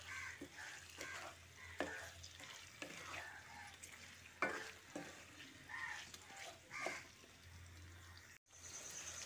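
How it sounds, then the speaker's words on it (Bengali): Chicken with salt frying and being stirred in a pan, a steady low sizzle broken by repeated scraping strokes of a spoon, close and continuous. "তারপর চিকেনটাকে 5 মিনিট ভুনে নেব।"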